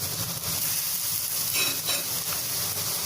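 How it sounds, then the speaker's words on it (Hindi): Besan-battered green chillies frying in hot oil for vada pav, a continuous bubbling sizzle with occasional stirring scrapes and a brief louder spatter midway. "ये भी जो है हरी मिर्ची भी हम इसको फ्राई कर लेंगे बेसन में डिप करके"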